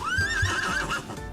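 A voice imitates a horse's whinny, a single rising and wavering neigh lasting just over a second, close and fairly loud with no other talk.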